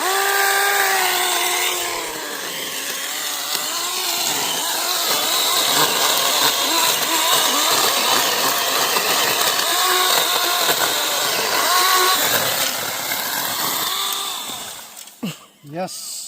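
A chainsaw cuts down a lemon tree on a farm, its engine droning loud and steady for most of the time before it cuts off near the end.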